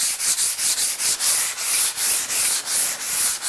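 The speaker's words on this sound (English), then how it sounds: "Light sanding will take all the really like high spots and the little loose flakes off" Rhythmic rasping strokes of sandpaper lightly sanding a flaky patina on copper sheet, a steady back-and-forth scrubbing repeated about a dozen times, close and clear.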